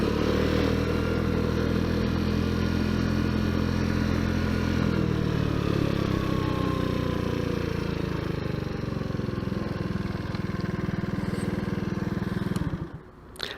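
A Tao Tao Zummer gas scooter is ridden, its small engine giving a continuous loud buzz with shifting revs and rattling clatter before cutting out abruptly near the end.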